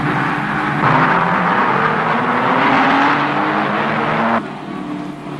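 Production racing cars at the Brands Hatch circuit in 1971 roar past with a loud, sustained engine drone that swells, then drops abruptly to a lower, quieter level near the end.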